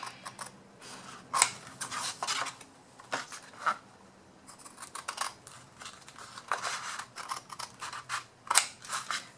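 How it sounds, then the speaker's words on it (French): Scissors cut through paper in a string of short crisp snips and rustling rubs, close and irregular, pausing briefly between cuts. "Un petit coup de ciseau."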